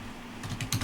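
Keystrokes on a computer keyboard at a Unix terminal, a handful of quick clacks bunched near the end of a short, quiet stretch, close and fairly crisp.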